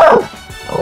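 Small dog yipping and whimpering as a radio comedy sound effect, a loud, close, brief whiny bark with a falling whimper.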